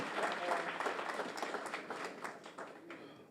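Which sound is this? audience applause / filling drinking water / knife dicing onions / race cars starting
audience applause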